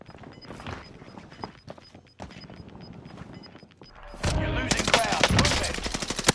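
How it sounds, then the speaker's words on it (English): Gunfire in Call of Duty on Rebirth Island: scattered shots and footsteps at first, then a loud, rapid automatic burst in the last couple of seconds, with a voice under the action. "I'm taking fire."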